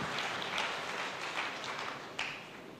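A church congregation applauds at a sermon, a steady, dense wash of clapping filling the whole stretch at moderate volume, with one sharper burst of claps near the end.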